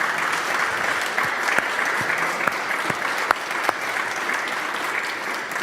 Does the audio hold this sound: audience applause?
yes